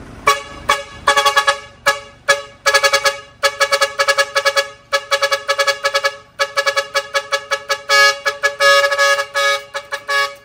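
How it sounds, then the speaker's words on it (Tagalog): A 12-channel multi-tone air horn module blasts in a rapid sequence of loud, bright, musical honks, cycling through varied melodic patterns with short gaps between bursts. "yun yung horn module natin na 12 channel"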